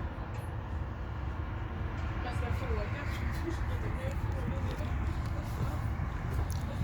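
A passenger train rolls along in Sweden, a continuous low rumble heard from inside the carriage, with a voice talking over the ride.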